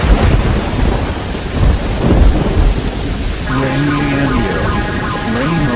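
Heavy rain pours steadily with rumbling thunder in a Roblox game storm, a loud continuous wash with deep low rolls, and a voice speaks briefly over it toward the end.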